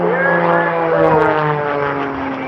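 A propeller airplane performing aerobatics at an airshow at Pocono Raceway, its engine a loud, close droning buzz that rises and falls in pitch as it whips around, steady throughout.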